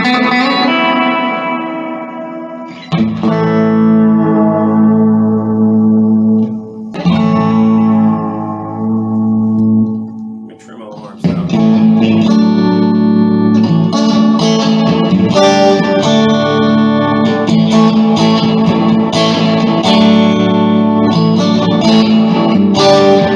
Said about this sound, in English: The reverb fades out gradually.